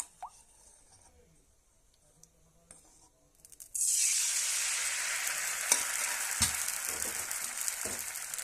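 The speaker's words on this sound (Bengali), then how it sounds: "কড়াইটা আমার গরম হয়ে গেছে, এর মধ্যে দিয়ে দেব ঘি" Ghee goes into a hot kadai for making spinach pitha, and after a few quiet seconds a sudden, sustained sizzle crackles up close with small pops.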